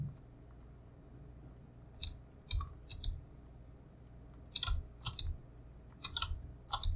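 Sharp computer mouse clicks come during editing in Illustrator, some single and some in quick clusters, close and crisp against a quiet room hum with no voices.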